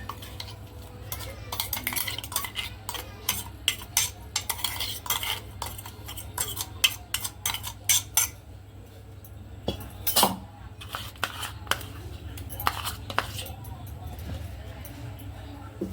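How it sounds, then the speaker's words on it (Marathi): Ground potato worked into chakli dough by hand-mixing in a bowl: busy, close clatter and scraping of a utensil against the bowl in quick irregular bursts over a low steady hum. "हे सगळं छान मिक्स करून घ्यायचं आहे"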